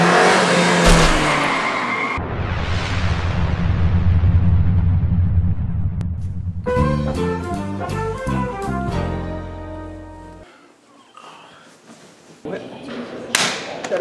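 A car spins donuts with a loud engine roar and rising revs while its tires skid and squeal against the pavement, close and intense, with a few thumps along the way.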